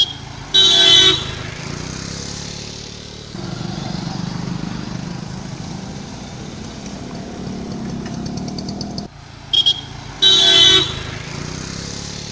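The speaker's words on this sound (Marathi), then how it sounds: "ह्या जंक्शनार पळयात गाडयो कश्यो यो वच करतात त्यो।" Cars and motorbikes pass through a busy road junction with a steady engine rumble. Sharp horn toots ring out loudly near the start and again toward the end.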